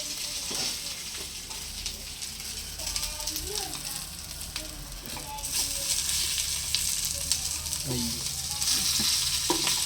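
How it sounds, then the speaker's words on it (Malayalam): Chicken pieces fry in a hot pan with a steady sizzle that grows louder over time, with occasional stirring clinks close by. "കുറച്ച് ചിക്കൻ ഞാൻ ഇങ്ങനെ വറുത്ത് വെക്കണം കേട്ടോ"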